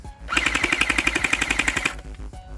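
Hydro Strike Pulsar Pro gel bead blaster toy firing a rapid full-auto burst of about twenty evenly spaced clacking shots, close and loud, then stopping abruptly with quiet room noise after.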